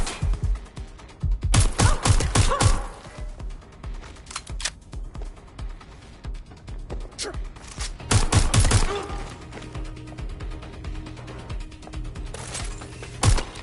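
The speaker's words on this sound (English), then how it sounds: "Shots fired! Shots fired!" Bursts of rapid gunfire crack out in Watch Dogs Legion, two heavy volleys with scattered single shots between them, loud and close against a busy game soundscape.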